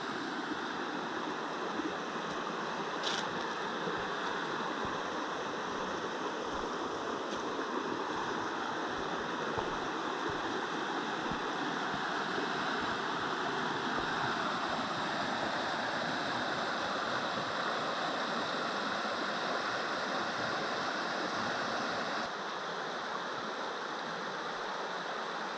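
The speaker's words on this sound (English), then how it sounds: "That water is moving." Creek water rushes steadily near Haw Creek Falls in the woods, a continuous broadband roar with gurgling texture, constant and moderately close, a couple of brief clicks near the start.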